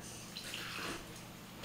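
Tap water is poured into a raw sauce of olive oil and other ingredients, a soft steady trickle heard faintly and alone.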